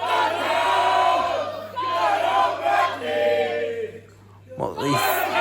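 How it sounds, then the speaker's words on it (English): Loud crowd at a Blackheart Wrestling show in Guiseley yelling and chanting in waves to rally Gung-Ho Mutley, trapped in a leg hold; the roar swells and fades several times, drops briefly near the end, then bursts back. "The crowd here at Guiseley trying to rally Gung-Ho Mutley."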